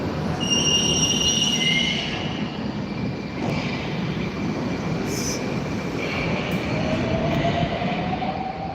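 A Moscow train rolls along with a steady loud rumble and high metallic wheel squeals that rise and fade, continuous throughout.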